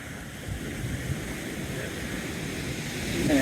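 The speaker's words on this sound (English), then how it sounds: "Whee! Waves." Rough ocean waves wash along a sunny seafront beside a sea wall, a steady rumbling surf mixed with wind buffeting the microphone, growing slightly louder toward the end.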